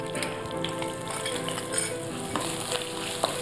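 Finely chopped ginger fries in hot oil with curry leaves for a masala idly tempering, crackling and sizzling steadily up close with light clinks of a stirring spoon.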